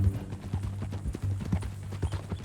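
Horse hooves clip-clop steadily in Red Dead Redemption 2, an even walking rhythm close by over a low hum of ambient game sound.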